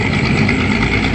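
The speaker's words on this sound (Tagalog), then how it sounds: "Pero grabe ng mga makina to, mga tagboat na to." Tugboat engines pulling a barge rumble loudly and continuously, a dense, steady mechanical drone with no breaks and no talk.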